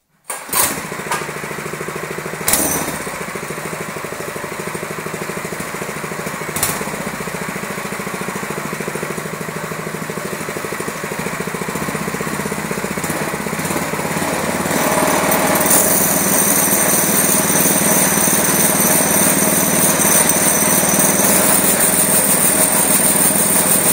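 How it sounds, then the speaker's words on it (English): A small engine on an off-road buggy kart runs steadily and loudly, close by, turning the axle. It starts with a couple of sharp knocks and rises to a higher, louder whine about two-thirds of the way through, with no talk. "I just want to start the engine and rotate it, the axle, just to show you how this is right now."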